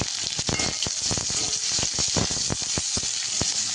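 Sliced onion and crushed garlic with bay leaves frying in hot oil, a close, continuous crackling sizzle dotted with sharp pops, with no voices over it.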